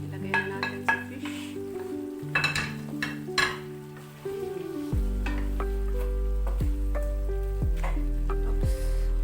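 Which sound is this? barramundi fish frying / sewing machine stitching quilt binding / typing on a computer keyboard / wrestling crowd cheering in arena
barramundi fish frying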